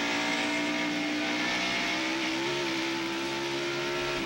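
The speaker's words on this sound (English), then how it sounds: "Accelerates down the back straightaway, 135 miles an hour." A 1994 NASCAR stock car at Bristol Motor Speedway accelerates down the back straightaway near 8,500 RPM, a loud, steady high-pitched engine roar holding for several seconds with a slight pitch rise.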